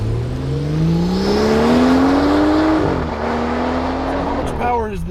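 A 2016 BMW 340i M-Sport with its B58 engine accelerating hard down a road, engine pitch climbing steadily through a gear change, loud and close from inside the car, with a voice briefly heard.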